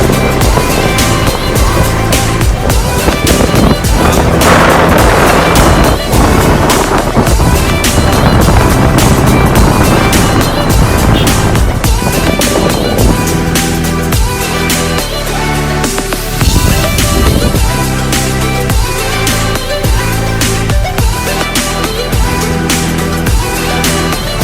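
A motorboat's engine drones loud and continuous throughout a ride through the Kadalundi mangrove forest, with rushing water and wind noise close around it and no talk.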